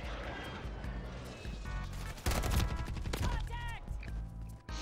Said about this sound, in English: I was distracted by the airstrike